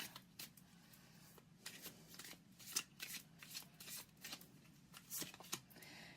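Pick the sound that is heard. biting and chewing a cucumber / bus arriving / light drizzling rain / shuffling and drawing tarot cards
shuffling and drawing tarot cards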